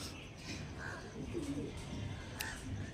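A pair of Star Kalanka pigeons coos softly and low, a few faint murmuring calls in the middle of a quiet, hissy background with no one talking.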